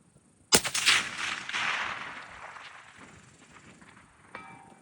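A single sharp rifle shot cracks out at a long-range shooting setup aimed at a 900-yard target, followed by a rolling echo that fades over several seconds before a faint distant thump.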